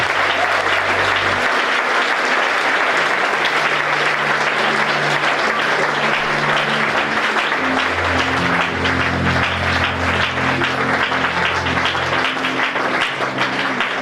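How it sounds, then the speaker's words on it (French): A church congregation applauds and cheers during a service, dense sustained clapping from a large crowd filling the room at steady loudness, with a low sustained tone and faint voices underneath. "Est-ce que tu peux bien t'acclamer, s'il te plaît?"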